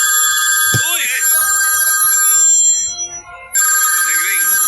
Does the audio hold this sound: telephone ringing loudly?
yes